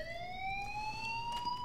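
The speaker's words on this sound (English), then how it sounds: "Fire alarm there." A wailing alarm rings in the Life is Strange video game, its rising electronic tone steady and continuous, fairly loud and heard alone without speech.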